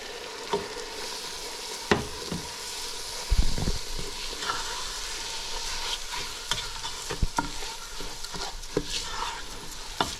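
Black rice stirred into a hot frying pan with seasonings, giving a steady sizzle broken by sharp scrapes and clacks of the utensil, one louder knock early on, all close by with no talk.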